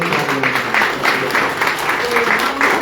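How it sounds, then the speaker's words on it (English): An RCCG church congregation at a parish inauguration in Rawang, Malaysia, applauds for the pastor. Loud, close, rhythmic group clapping comes in regular pulses, with voices mixed in. "clap for Pastor Tomajan"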